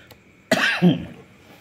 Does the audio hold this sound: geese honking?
no